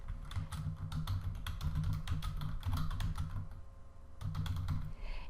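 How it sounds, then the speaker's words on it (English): Typing an address on a computer keyboard, a steady run of close, crisp key clicks with a short pause before the tapping resumes, over a faint low hum. "we're going to go ahead and type in the address"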